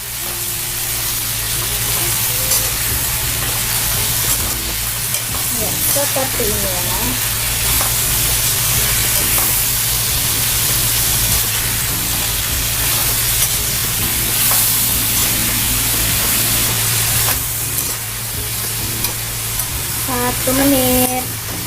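Spicy shallot sambal fries in a pan with a loud, steady sizzle and hiss, the occasional stir of a utensil audible up close, while a voice speaks briefly over it.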